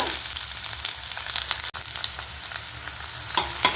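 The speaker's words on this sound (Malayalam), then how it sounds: "ഇനി ഇതിൻ്റെ പച്ചമണം മാറണ വരെ മതി ബ്രൗൺ കളറൊന്നും ആവണ്ട ഒന്ന് നന്നായിട്ട് വഴറ്റി കൊടുക്കുക" Shallots sauté in a pan with a constant bright sizzle and occasional spoon scrapes and taps, close and loud throughout with no speech.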